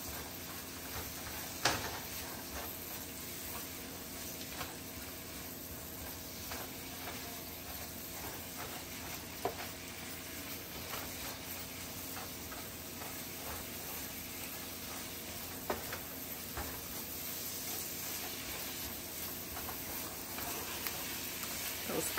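Fajita pasta sizzling in a pan with a steady soft hiss, broken by a few light clicks and scrapes as it is mixed up, fairly faint and close.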